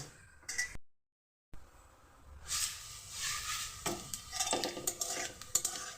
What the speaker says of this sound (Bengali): তেলটা গরম হয়ে গেছে দেখতেই পাচ্ছ এবার দিয়ে দেবো এর মধ্যে কালো জিরে ও শুকনো লঙ্কা ফোড়ন